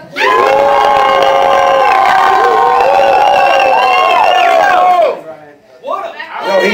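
A loud crowd cheers, whoops and shouts at a rap battle in a sustained roar that drops away abruptly, followed by a short burst of further shouting.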